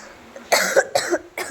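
A few short coughs in quick succession, close and fairly loud, with brief pauses between them.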